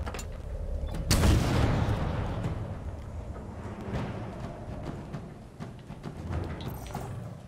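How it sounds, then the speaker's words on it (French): A heavy explosive blast from a bazooka-type weapon in the shooter game Halo Infinite hits loud and sudden, then rumbles and decays into a long, noisy tail of battle sounds. "On combat au Bazooka"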